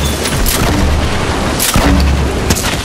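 Loud booming explosions from grenades in a shooter video game, a dense continuous rumble with a couple of sharper blasts close by.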